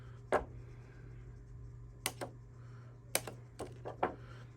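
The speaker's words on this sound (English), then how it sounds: "the last thing I have to do is cut the little tabs in here. And I just snip them." Small tabs cut in an acetate planner page: a few sharp, close scissor snips, single and paired clicks spaced irregularly over a low steady hum.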